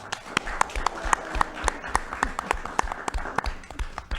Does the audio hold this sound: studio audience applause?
yes